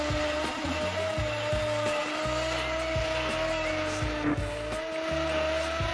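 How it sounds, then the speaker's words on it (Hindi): An electric beater whips chocolate tea, its motor whirring steadily with a high tone and a pulsing, uneven low rumble as the blades churn the liquid close by. "नहीं अब हम बीटर से बीट करेंगे।"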